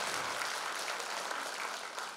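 An audience at a Korean lawmaker's constituency report meeting gives a sustained round of applause, a thick, even wash of many hands clapping that fills the hall without voices.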